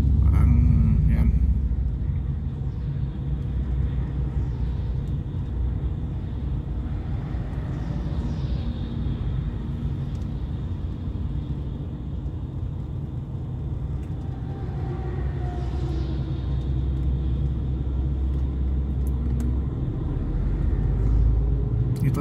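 Heavy road traffic at the edge of Belgium, heard from inside a trailer truck cab: a steady low engine and road rumble runs throughout, with faint passing vehicle noise and occasional voices.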